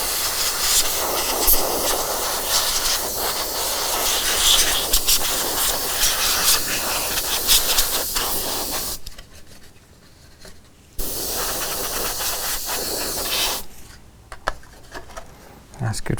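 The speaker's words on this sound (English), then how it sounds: "I'm just going to give it a nice little clean off with the airbrush. So no paint, just air." An airbrush blows plain air with no paint to dust off an Imperial Knight model, a loud steady hiss that cuts out twice in short pauses before resuming.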